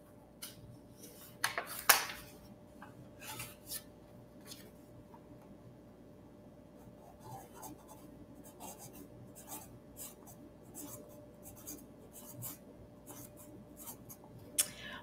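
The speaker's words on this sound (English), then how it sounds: "I need to write it." Pen scratching across paper in short irregular strokes, faint and close, with a sharper scrape near the start and scattered taps and rustles through the rest.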